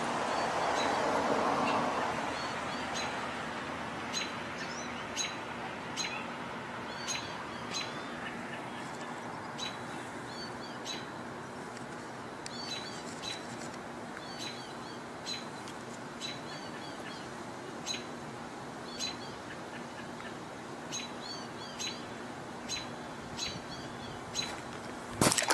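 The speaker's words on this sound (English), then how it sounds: "goldfinches right now." American goldfinches sing in short, high, repeated twittering notes scattered throughout, moderately distant over a steady outdoor hum, with a brief louder rumble at the start.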